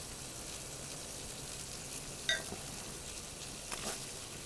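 Bacon renders in an Ooni Koda 16 outdoor pizza oven with a soft, steady sizzle throughout and a couple of brief crackles, heard alone and fairly faint.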